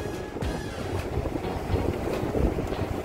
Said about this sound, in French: remarquez le vent dans les cheveux